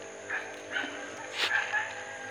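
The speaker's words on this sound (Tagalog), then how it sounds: "Ito yung laging tumatahol kagabi." A pet dog gives a few short yips and barks spaced out over a couple of seconds against a faint outdoor hum by a road.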